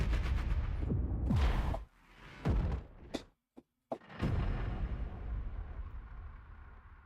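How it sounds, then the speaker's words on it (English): Several deep cinematic booms and impacts hit one after another, each with a rumbling tail, separated by brief silences before a final long decaying boom. "complex booms."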